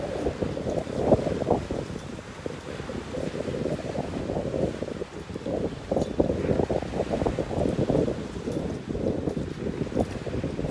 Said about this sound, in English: That wind's coming from the same direction.